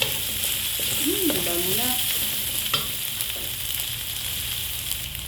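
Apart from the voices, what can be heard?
chicken tocino frying in a pan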